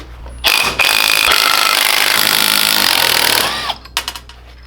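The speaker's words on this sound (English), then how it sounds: "Let me find a wrench that fits that." A power wrench on go kart ring gear bolts, one loud, sustained buzzing whir lasting about three seconds, then a few short rattling bursts as it winds down.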